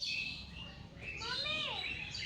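Birds chirp and tweet nearby with short rising and falling calls, over a steady background hum and faint murmuring.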